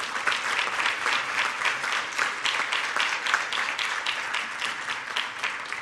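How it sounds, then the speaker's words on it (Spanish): An audience applauds Plastifar as the company receives a recognition at an awards presentation, a steady, dense clapping that continues evenly throughout at a moderate level. "Aplauso para Plastifar."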